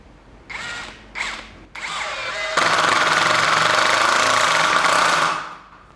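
A DCA ADPL03-14 cordless impact driver sinks a 2-inch screw, starting with a few short whirring bursts, then settling into a loud, sustained rattling hammer as the screw drives home, before winding down abruptly.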